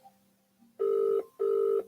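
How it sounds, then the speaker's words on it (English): A European telephone call ringtone sounds as two long, loud, clean tone bursts separated by a short pause, alone with no voices. "You can tell this a European call. Their ringtone is different."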